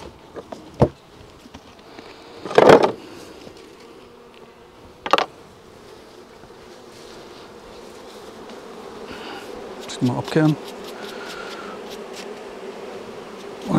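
Honeybees buzz around an opened beehive with frames and feeder pockets, a continuous soft hum under a few sharp knocks and scrapes of hive parts, with a brief spoken remark.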